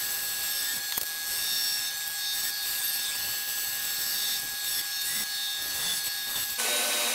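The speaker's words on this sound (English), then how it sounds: "Then I cut the shape out of 3/4 inch plywood on the bandsaw." A bandsaw cuts through 3/4 inch plywood in a workshop with a steady, continuous rasping hum. A constant motor tone runs beneath it the whole time, and the blade's pitch shifts slightly near the end.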